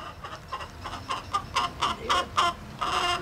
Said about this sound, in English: Sounds like the chickens want some.